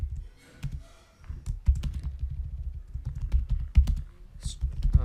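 Typing on a computer keyboard while writing JavaScript code, a steady run of close, quick key clicks with a few louder thumps over a low room rumble.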